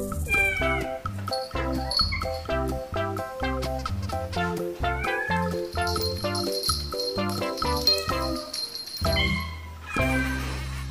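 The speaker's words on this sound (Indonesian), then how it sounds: "Lihat ini teman, di sini ada kucing" A cat meows repeatedly, loud and close, in a string of drawn-out, wavering cries with short pauses between them.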